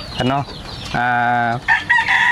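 A farm flock of chickens clucks in short bursts around a rooster's drawn-out crow, all close and loud with no talking.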